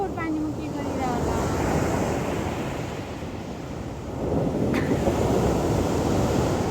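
Waves surging and breaking on open water with strong wind buffeting the microphone, a loud continuous wash that swells again near the end, with a brief faint voice early on.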